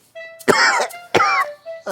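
A person shivering with fever coughs hard several times in close, loud bursts, with a throat-clearing quality and a little voiced sound between coughs.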